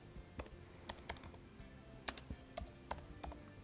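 Faint, irregular keystrokes tap on a computer keyboard as a command is typed, a dozen or so quiet clicks spaced unevenly over a low background hum.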